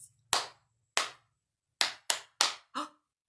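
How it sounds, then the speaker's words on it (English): Hands clap at a toddler circle time, about six sharp, close claps with uneven spacing, a couple spread apart and then several in quicker succession, each crisp against otherwise quiet surroundings. "Oh, that was five claps."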